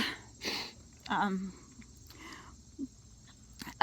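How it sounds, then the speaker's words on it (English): A person with a cold sniffles several times, short breathy snuffs coming close and quiet, spread irregularly through a calm room with a faint steady hum underneath. "I'm sniffling a lot."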